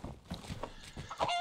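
A chicken in the DayZ zombie-survival video game gives a few short, close clucks in a choppy rhythm over about a second and a half, with no talk.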